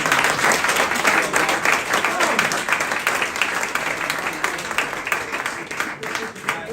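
A sports club's awards-night crowd gives a round of applause. Dense clapping from many hands stays loud and continuous throughout, tapering slightly toward the close, with a few voices mixed in.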